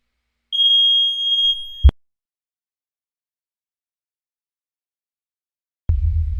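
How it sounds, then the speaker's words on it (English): A fire alarm gives one long, piercing, high-pitched electronic beep lasting over a second, then cuts off into silence before a low rumbling noise starts. "This fire alarm's driving me nuts. It's piercing my ears"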